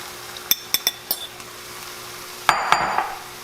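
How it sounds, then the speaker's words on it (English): Sauce poured into a sizzling steak and cabbage stir fry, starting with a few sharp utensil clinks and followed by a sudden louder burst of sizzling that fades. "Time to add our sauce."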